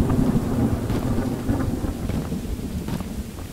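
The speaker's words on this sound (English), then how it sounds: "I wonder if the rainy weather's ever gonna go away." Rain hisses steadily in a video game storm while deep thunder rumbles rise and fall underneath, with no pauses.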